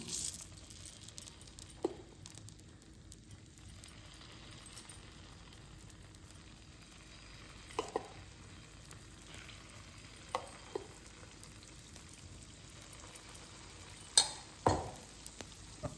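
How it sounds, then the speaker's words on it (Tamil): Paniyaram batter sizzles softly in a hot paniyaram pan, a faint steady crackle broken by occasional clicks and taps of utensils. "நம்ம இப்போ பனியாரத்தை விட்டுடலாம்."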